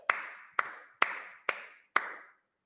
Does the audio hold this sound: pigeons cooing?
no